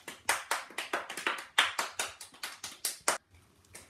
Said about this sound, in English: They are clapping fast.